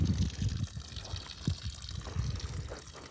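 Well water runs into a wildlife watering tank outdoors, a continuous close splashing and gurgling flow with small surges, heard alone.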